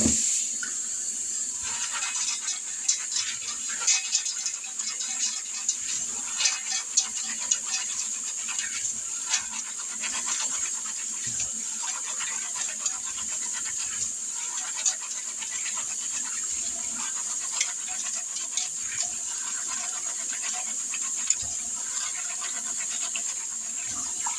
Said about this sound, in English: We're going to get these washed up.